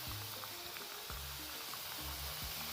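First batch of gud pare, jaggery-sweetened dough pieces, frying in hot oil, a steady low crackling sizzle with occasional bubbling pops, close and continuous with no talk.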